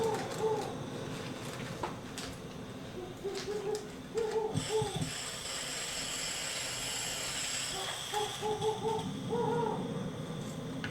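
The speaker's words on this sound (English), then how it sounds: "we got owl sounds" An owl gives repeated soft hoots in several short clusters over a low hissing background.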